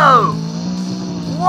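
A monster truck spins donuts in the Monster Jam Steel Titans video game, its engine droning loudly and steadily as the pitch dips and swoops, with a voice talking over it.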